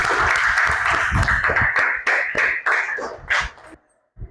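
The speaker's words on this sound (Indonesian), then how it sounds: "kasih tepuk tangan untuk kelompok 1." Students in a classroom applaud a presenting group with brisk clapping for several seconds, then the clapping cuts off abruptly into near silence.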